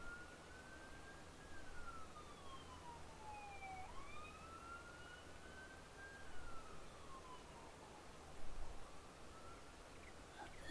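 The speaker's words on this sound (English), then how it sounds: "There goes the sirens again." Police-style emergency sirens wail from a distance in Farming Simulator 22, their gliding tones rising and falling over a steady low background rumble for the whole stretch, with no talking.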